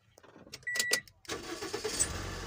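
A car's engine cranks and starts on a hot day, followed by a steady idle rumble with a brief electric window whir, close and fairly loud with no talking.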